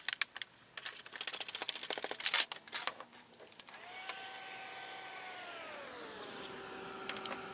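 Heat tool used to melt embossing powder on a craft project: a steady blowing whir with a falling pitch as it settles, preceded by clicks, taps and handling noises.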